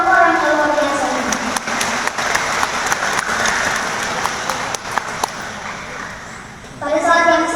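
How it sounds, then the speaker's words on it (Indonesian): Sustained, dense applause from a large audience fills a university graduation ceremony at UKAW Kupang, steady and fairly loud throughout, with a voice rising over it at the very end. "Mari kita beri tepuk tangan yang luar biasa untuk orang-orang yang luar biasa ini"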